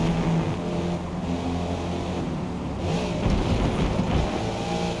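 A race car engine in a driving video game revs and drones continuously with traction control off, a loud, steady mechanical roar that rises and falls slightly as the throttle is fed, without speech over it.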